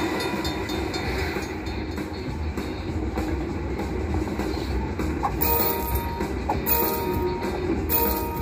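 Train sound effect from a Coin Trio slot machine, a steady rolling rail rumble with clickety-clack rhythm and bright chimes from the machine on top.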